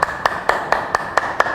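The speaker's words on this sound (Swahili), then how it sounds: "Pigie Yesu makofi" A congregation at a university prayer conference in Tanzania claps in unison, seven crisp, evenly spaced claps in a steady rhythm, with no talk over them.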